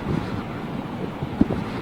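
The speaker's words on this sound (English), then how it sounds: "the wind" Wind buffets an outdoor microphone at Heathrow Airport, a low rumbling roar with uneven gusts and a brief thump partway through.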